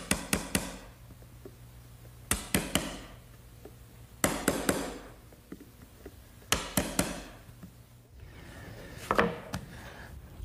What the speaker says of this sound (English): Now I'll just square off the corner that the router couldn't get to using a nice sharp chisel